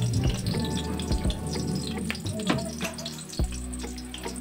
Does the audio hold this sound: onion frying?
yes